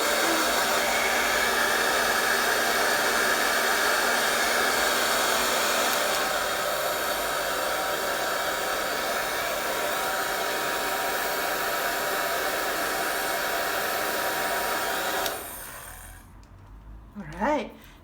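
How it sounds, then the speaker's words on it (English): A hair dryer blows steadily to dry acrylic paint, a loud continuous whooshing hum for about fifteen seconds before it clicks off, followed by brief quiet handling sounds. "now you can use your hair dryer just to dry"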